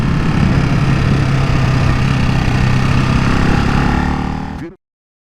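Ducati Hypermotard 698 Mono single-cylinder engine while riding, a loud steady droning note from on the bike that holds for several seconds before cutting off abruptly.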